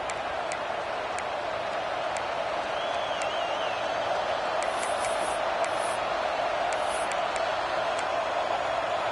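Steady stadium crowd roar in a Madden football game, a constant broad wash of distant voices with faint ticking and brief whistle-like tones over it, no close talk.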